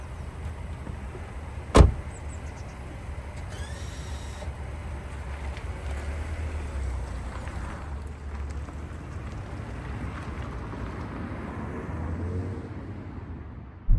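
A Mercedes A180 hatchback cruising in comfort mode, with a steady low engine and road rumble plus tyre and wind noise filling the cabin evenly, a brief sharp click near the start.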